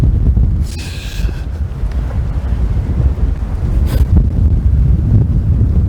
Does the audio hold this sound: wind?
yes